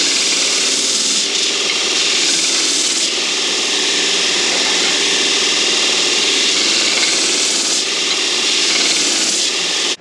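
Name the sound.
belt grinder grinding metal pieces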